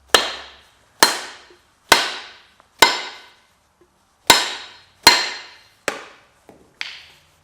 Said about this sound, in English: I'm going to go ahead and pop this in here a little bit more with the hammer.